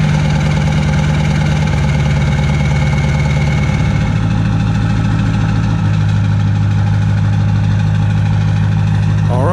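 A large truck engine with EFI Live tuning idles steadily nearby in 3 °F cold, then its drone settles lower as the revs drop, a continuous loud rumble.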